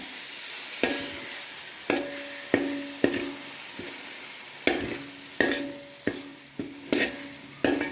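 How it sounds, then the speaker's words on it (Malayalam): A spoon stirs boiled eggs through masala in a pan for an egg biryani, with a low sizzle under about a dozen distinct metallic scrapes and taps, close and fairly loud, no voices. "രണ്ട് മിനിറ്റ് നേരം നല്ലതുപോലെ ഇളക്കി ഇപ്പം ലോ ഫ്ലെയിമിൽ വെച്ച്"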